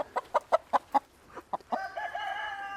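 Meat chickens held in a chicken tractor on a farm give a close series of rhythmic clucks, then a longer drawn-out crowing call, with no talking over them.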